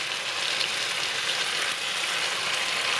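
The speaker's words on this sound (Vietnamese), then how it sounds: "mình sẽ chiên cho đến khi mình thấy nó vàng luôn cái phần da nha" Chicken thighs fry in butter, skin side down, giving a dense, even sizzle that stays steady and close throughout, with no voices.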